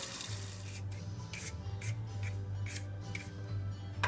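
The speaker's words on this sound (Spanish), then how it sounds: "Aquí en el proceso de pelando la verdura, la que se necesita pelar" Potatoes and carrots scraped with a peeler in a home kitchen, a run of short rasping strokes in an irregular rhythm, close and fairly clear over a steady low hum.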